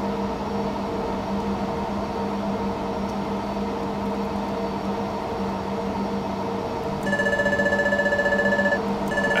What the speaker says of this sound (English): That's our gear up alarm.